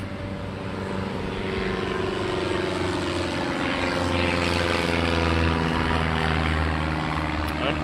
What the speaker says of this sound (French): Un petit avion qui vient de passer.